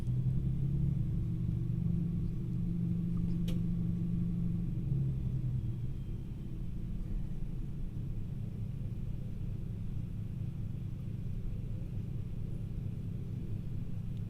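A train rumbles slowly into a siding in the Train Simulator 2017 game, a continuous low engine drone and rolling rumble holding steady throughout, with a single faint click partway through and no talking.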